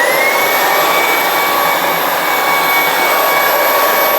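A Ryobi 18V HP cordless stick vacuum runs loud and close, giving a steady high whining suction roar with no pauses.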